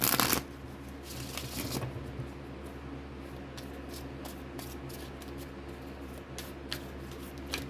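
Tarot cards being shuffled by hand, a quick riffle burst at the start followed by soft, repeated card slaps and rustles, close and quiet.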